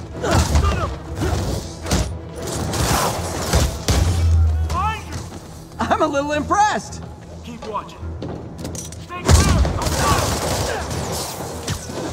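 Gunfire in Spider-Man Remastered: bursts of shots and thuds with game characters shouting over the action.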